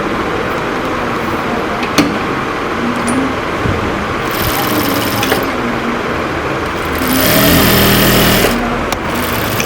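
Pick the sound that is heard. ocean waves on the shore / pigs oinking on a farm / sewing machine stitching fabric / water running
sewing machine stitching fabric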